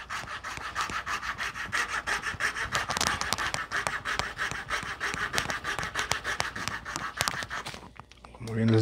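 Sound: saw cutting into a tree branch

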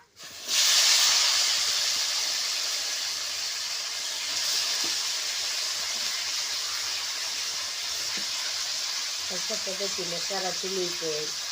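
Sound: fresh val beans sizzling in hot oil in a pan

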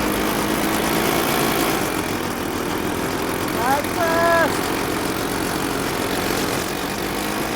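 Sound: airboat engine and propeller spinning fast in second gear

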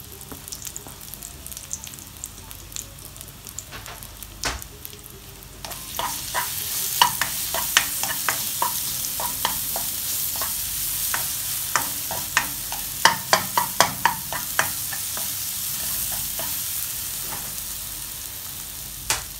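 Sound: sliced banana frying in ghee

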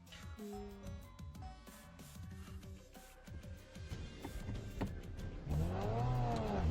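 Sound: car engine revving in sport mode

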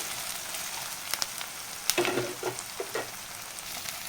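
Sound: ginger garlic paste sizzling while frying

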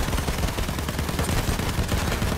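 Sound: bomber plane dropping bombs in video game Battlefield 1

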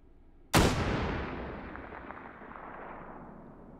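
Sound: bipod-mounted gun shot in the video game Hot Dogs, Horseshoes & Hand Grenades

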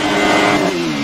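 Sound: Alfa 155 TI V6 engine revving to 13,000 RPM, video game Assetto Corsa

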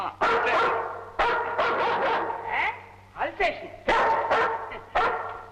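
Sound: dog barking

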